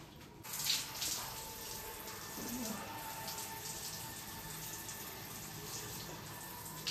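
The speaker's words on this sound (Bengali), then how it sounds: "এবারে জল দিয়ে ধুয়ে দেব।" Steady running water from a tap rinsing shampooed hair, a continuous close splashing hiss that lasts throughout at an even level.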